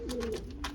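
Pigeons bred for recessive red colour coo softly in a short, low, rolling burst from nearby, with faint repeated throaty pulses.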